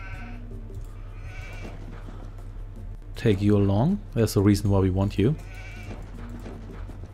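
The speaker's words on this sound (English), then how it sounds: "Ooh, look at that, it's sheep." Sheep bleat in the Age of Empires II video game, set against steady in-game music and ambience while a narrating voice speaks over the middle of the clip.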